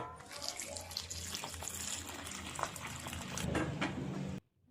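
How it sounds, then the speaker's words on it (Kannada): Hot water poured into a bowl of soya chunks, a close, splashy stream running steadily for several seconds, growing slightly louder near the end before stopping abruptly. "ಬಿಸಿನೀರು ಕಾಯಿಸ್ಬಿಟ್ಟು ಇದ್ರೊಳಗಡೆ ಹಾಕೋತಿದ್ದೀನಿ"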